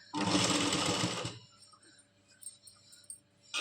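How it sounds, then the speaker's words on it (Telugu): Sewing machine stitching buttonholes on a blouse, a loud fast rattling run for just over a second, then stopping, leaving a quiet room with faint small clicks. "ఇట్లా రెడీమేడ్గా మిషన్ మీదనే కాజాలు పోసుకోవాలి"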